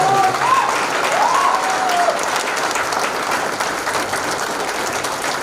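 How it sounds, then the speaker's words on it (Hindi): Audience applause welcoming a doctor who practises pulse diagnosis at a gathering: a dense, steady wash of clapping from a sizable crowd, fairly loud and sustained throughout, with a faint voice briefly audible near the start. "डॉक्टर संदीप कुमार यादव जी के लिए एक बार जोरदार ताली से स्वागत है।"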